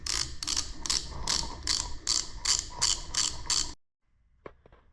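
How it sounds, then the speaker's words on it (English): A bolt on a Wheel Horse tractor being turned out with a ratchet, a steady run of about ten close, loud clicking pulls, then a stop and a couple of faint metallic taps. "now we got that bolt off"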